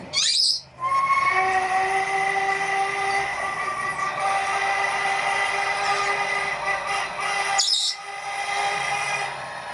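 A model train sound unit plays a sustained electronic train horn chord, loud and steady for several seconds, with brief hissing bursts at the start and near the end.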